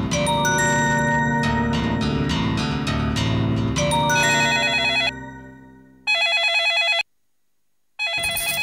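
A telephone bell rings at night in a Hindi TV drama, in loud, repeated trilling bursts separated by short silent pauses, with no talk over it.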